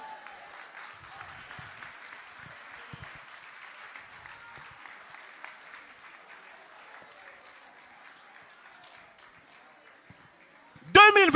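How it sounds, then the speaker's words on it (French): Sustained audience applause fills a worship service at a Christian conference, with crowd noise and voices running throughout and a sudden louder burst of clapping and cheering right at the end. "Put your hands together."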